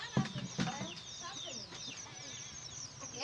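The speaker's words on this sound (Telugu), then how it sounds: "తండా కోళ్ళ ఫారం ఫ్రెండ్స్." Hens at a village chicken farm cluck in short, scattered bursts at moderate distance, mixed with faint background voices and outdoor ambience.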